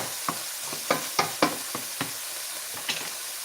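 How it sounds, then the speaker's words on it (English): Food sautéing in a pan for Cajun shrimp and chicken broccoli loaded potatoes, with a soft, steady sizzle up close and a handful of sharp stirring clicks and scrapes scattered through it. No voices. "So we're just going to saute these down just a little bit."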